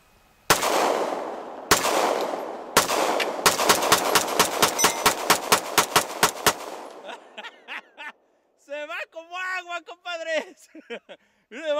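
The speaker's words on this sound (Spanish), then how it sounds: "la PX4 Beretta. Vamos a dispararla." Beretta PX4 pistol firing: three loud, widely spaced shots, then a fast string of about fifteen sharp reports, after which people begin talking.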